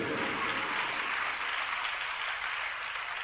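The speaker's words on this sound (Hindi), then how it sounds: "फिर भी ताली तो बज ही रही है" Audience applause at a Hindi religious discourse by a Jain monk, a steady dense wash of clapping throughout with no voices.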